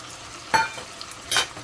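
Tomato, garlic and curry leaves fry and get stirred in a pan, two short sizzling, scraping bursts standing out over a low steady crackle, close and with no voices.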